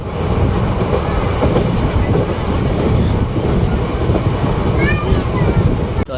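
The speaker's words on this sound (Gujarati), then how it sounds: "તો જો હવે ફાઇનલી જેતપુરમાંથી નીકળે ટ્રેન." A passenger train pulls out of Jetpur station with loud, continuous rumbling and rhythmic clickety-clack of wheels on rails, heard from on board, with faint squeals near the end.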